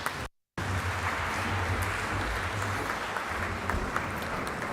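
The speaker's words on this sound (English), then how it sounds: "Let's give a big round of applause" Audience applause after an endowment lecture, steady hall-wide clapping that runs for several seconds after a brief dropout at the start, with a low hum underneath.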